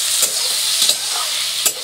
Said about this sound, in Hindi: भिंडी भूंज रही है